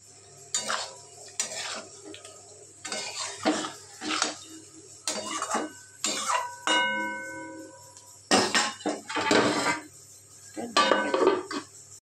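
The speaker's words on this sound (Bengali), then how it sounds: "তো এবারে দিয়ে দেবো চিকেন বল।" Chicken balls go into a pan while a chicken ball curry is cooked, giving several bursts of clinking and scraping against cookware with short pauses between, close and moderately loud, with a brief tonal ring partway through.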